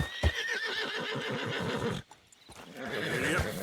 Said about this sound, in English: You've unlocked rearing with this horse.